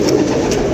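Pigeons in a loft give a short, close burst of low cooing, loud and continuous for less than a second.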